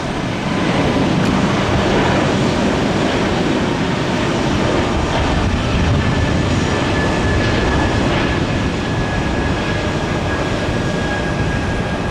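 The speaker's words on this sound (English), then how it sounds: "Airbus A220, 2116 to LaGuardia" Airbus A220 airliner arriving at an airport, its jet engines a loud, steady broadband roar that holds throughout with no voices.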